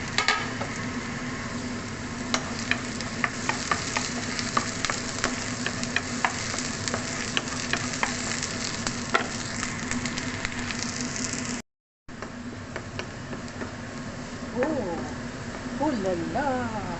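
Garlic sizzling in hot oil with bay leaf for pork adobo, a steady close frying crackle with scattered sharp pops and a brief break, a voice talking over it.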